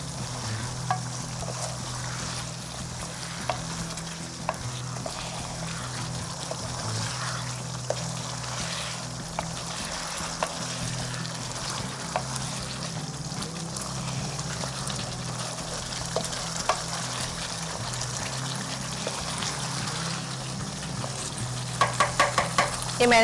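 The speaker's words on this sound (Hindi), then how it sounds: "और अब हम इसको कुक करेंगे हाई फ्लेम पे।" Afghani karahi cooking on high flame while being stirred, a continuous sizzle with scraping and clinks of the spoon against the pot, close and fairly steady, with a short burst of rapid clatter near the end.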